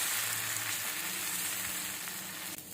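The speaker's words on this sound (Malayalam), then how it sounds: "കല്ല് ചൂടായി കഴിഞ്ഞു. ഇനി നമ്മൾ മാവ് ഇതിലേക്ക് ഒഴിച്ചു കൊടുക്കാം." Dosa batter poured onto a hot griddle sizzles loudly and continuously up close, a bright frying hiss with no voices.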